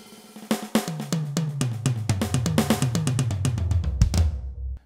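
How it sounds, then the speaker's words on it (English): Birch Custom Absolute acoustic-style kit sample played on a Yamaha DTX950K electronic drum set: a busy run of close, punchy drum and cymbal hits, toms stepping downward in a fill before a final crash that rings out. "This is the sound of the Yamaha Birch Custom Absolute."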